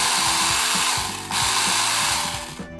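A high-pitched Mini 4WD Ultra-Dash motor in a Marushin Magnum Shooter toy BB gun kit, powered by three batteries, whirs loudly and steadily at full speed like a drill, with a faint rattling underneath.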